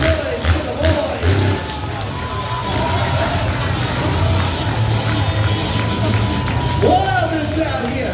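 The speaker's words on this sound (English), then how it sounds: "Stand those feet, clap your hands, and make some noise for the boys." A crowd at a motorbike show claps and cheers, a dense roar of hands and voices that stays loud and continuous from start to finish.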